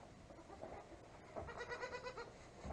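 Goats bleat in a barn, a few short, wavering calls bunched together near the end. The calls are faint and soft against quiet background noise.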